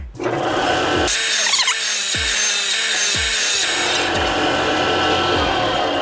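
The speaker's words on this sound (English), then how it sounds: "you're using a grinder, you want to sand it with the pad flat where it's coming across like that" A grinder sands a metal body panel on a VW bus under restoration, a loud, close, continuous abrasive whine that shifts in pitch as the load changes, with no speech.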